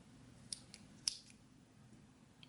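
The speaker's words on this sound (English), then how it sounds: "then you can cut off your yarn" Scissors snipping crochet yarn after a slip stitch on a mug cozy, two or three faint, sharp close clicks in a quiet room, no talking.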